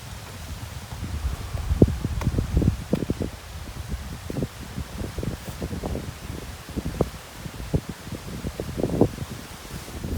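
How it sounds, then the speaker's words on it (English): Gusty wind on a stormy Florida day buffets outdoors in uneven rushes and low rumbling surges, loud and close, with no talk. "Now it's getting windy. It's stormy today in Florida."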